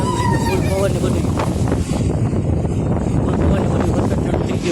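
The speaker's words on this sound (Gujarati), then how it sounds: "પવન એ ફૂલ છે ને વરસાદ ધીમો ધીમો ચાલુ થઈ ગયો છે." Strong wind gusts at an outdoor temple site after dark, just as light rain begins, producing a loud, continuous, close roar and buffeting rumble that fills the whole stretch.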